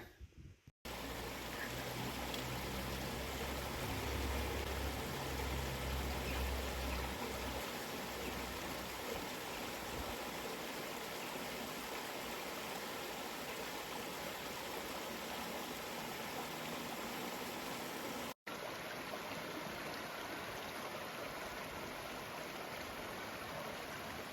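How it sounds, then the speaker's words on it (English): A double waterfall along the Pennine Bridleway in England, heard as a steady, faint, broadband rushing of falling water that continues unbroken, with a brief gap near the end and no voices. "to see a most spectacular waterfall. Well, double waterfall actually."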